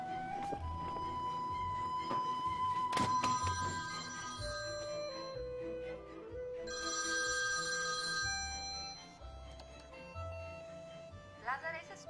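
A phone rings with a repeating electronic tone, fairly close, over a busy background of voices and music.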